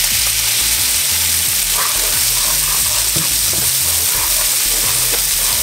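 Olive oil and margarine sizzle loudly and continuously in a frying pan for steak pimienta, with occasional utensil scrapes and clinks from stirring close by.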